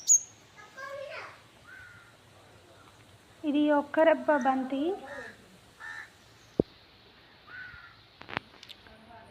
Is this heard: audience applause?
no